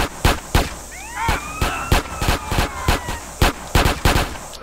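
Bursts of gunfire in GTA San Andreas, a rapid string of loud, sharp shots spaced irregularly through the clip, with faint whistling game effects in between and no talking.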